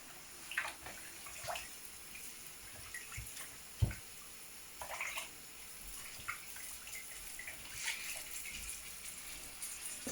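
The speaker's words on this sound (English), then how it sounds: "Now I'm going to wash my hands." Hands washed under a running kitchen tap during a banana puff puff cooking session, a steady soft stream of water with scattered light splashes and one sharp knock, no talking.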